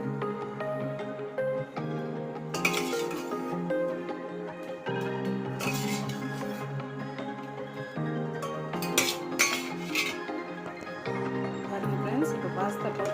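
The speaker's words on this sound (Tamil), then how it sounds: "இதை கெட்டி ஆகிற வரைக்கும் கொஞ்சம் கலரி விட்டுகிட்டே இருக்கணும்" Boiled pasta is stirred into a thickening cheese-free sauce in a pan, the spoon clinking and scraping against the metal again and again while a person speaks throughout.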